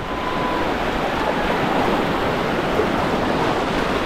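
Steady sea surf rolling onto the shore at a beach resort in Bacolod City, a continuous broad wash of breaking waves with some wind noise, loud and unbroken with no talk.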